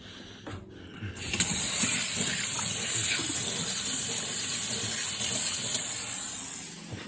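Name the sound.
tap water running while washing a hand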